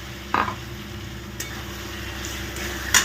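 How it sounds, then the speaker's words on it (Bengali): Diced potatoes fry in a pan of hot oil with a soft steady sizzle, and a spoon scrapes and stirs them in a few brief strokes. "যে আলুগুলো ডুমো করে কেটে রেখেছি সেটা দিয়ে দিয়েছি।"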